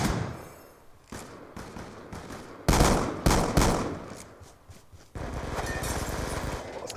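Rapid bursts of video-game revolver gunfire from Black Ops II, loud and close, with sharp repeated shots clustered through the middle and a dense sustained burst of firing toward the end, no talking.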